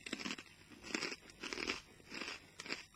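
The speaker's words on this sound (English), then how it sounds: "Scratchings, pork crunch." Pork scratchings (pork crunch snacks) being crunched and chewed up close, with four loud bursts of crackly bites in a steady rhythm, no talking.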